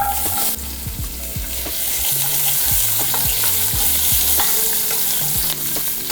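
Diced mirepoix vegetables fry in a pan with a loud, steady sizzle, close up, while a spoon scrapes and knocks the pan in short, irregular strokes.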